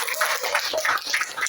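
An audience claps steadily throughout at a birthday gathering with speeches and a religious sermon, a dense, even patter of applause with no voices over it.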